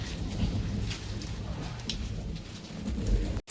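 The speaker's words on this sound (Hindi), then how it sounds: "अभी तक तो हल्की जुल्की आ रही थी, लेकिन अभी बारिश बहुत तेज़ बढ़ गई है।" Heavy rain pours down steadily on a farm during the last peach harvest of the season, a dense, continuous hiss with low rumbling beneath it. It stays loud and even throughout, with no talking, until a brief dropout near the end.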